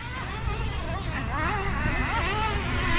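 A four-wheel-drive gas RC short course truck passes by during a race main, its small engine buzzing with a wavering, uneven tone over steady background noise and announcer talk.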